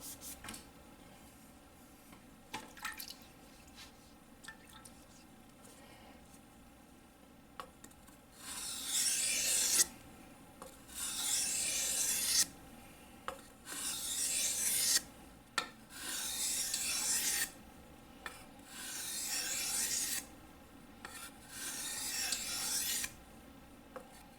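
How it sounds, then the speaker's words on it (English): A Nagura stone rubbed back and forth along the length of a knife sharpening stone, giving a series of gritty, rasping strokes in a steady rhythm, close and fairly loud, with no voices. "Using the Nagura stone, all you do is rub it along the length of the stone"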